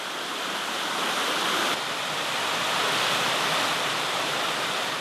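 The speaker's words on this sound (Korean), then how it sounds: "저렇게 아주 멋진 폭포도 보이고" A waterfall rushes in a canyon in the American West, giving a loud, steady, unbroken roar of falling water with no voices.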